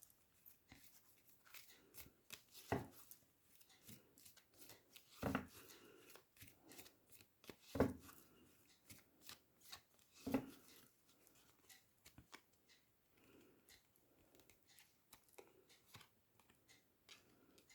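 Oracle cards shuffled by hand in a series of soft, papery riffles and taps, with several sharper snaps standing out, fairly close and quiet, without any talking.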